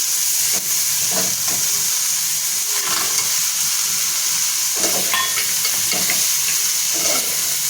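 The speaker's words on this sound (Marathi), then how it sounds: "धुवून घेतलेली करंजी टाकून घ्यायची मसाल्यांमध्ये आपल्याला छान परतून घ्यायचे" Washed dried shrimp (karandi) sautéing with spices in a hot pan, a steady close sizzle with scattered stirring scrapes and clinks throughout, no voices.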